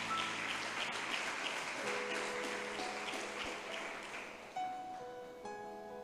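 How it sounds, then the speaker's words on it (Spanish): Church congregation clapping in praise, a broad patter of many hands with a few sustained musical tones rising underneath in the second half. "¿Cuántos le aplauden al Señor, hermanos?"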